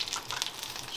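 Beer-battered fish frying in a fryer, a brief steady crackling sizzle of hot oil, soft and close with no voices.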